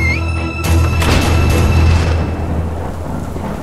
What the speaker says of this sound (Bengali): সঙ্গে সঙ্গে তুমুল বজ্রপাত হয় কাছাকাছি কোথাও, সকলে সচকিত হয়ে ওঠে, বৃষ্টির বড় বড় ফোঁটা ধেয়ে আসে চারিদিক জুড়ে